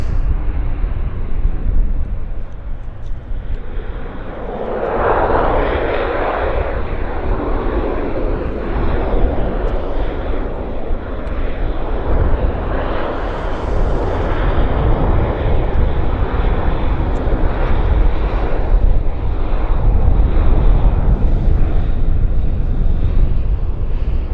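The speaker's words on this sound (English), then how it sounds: "Encore, Westjet Encore, Q400 landing." A WestJet Encore Q400 turboprop landing at Vancouver Airport, its loud engine roar swelling and rumbling continuously throughout, with no one speaking.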